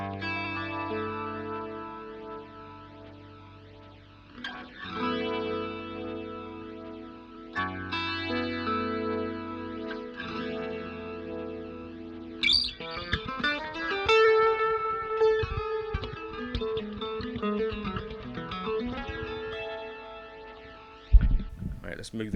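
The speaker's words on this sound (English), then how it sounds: "Let's just pick up a guitar. And I'm going to put this through a compressor and maybe like a bit of a reverb" Electric guitar played through a compressor with a touch of reverb, sustained chords and picked notes ringing out with effects-laden tone, loud and continuous for over twenty seconds, ending in a sharp strum.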